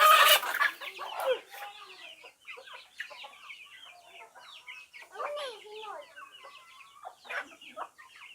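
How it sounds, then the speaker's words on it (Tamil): A hen clucks and squawks nearby in short bursts, with scattered bird calls and some voices in the background. "குஞ்சு கோழியை பிடிக்க தாய கோழி கொத்துதா"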